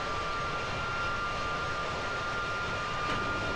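Steady, dense roar of aircraft engine exhaust in Kerbal Space Program, loud and unchanging for the whole stretch with a faint continuous whine riding on top.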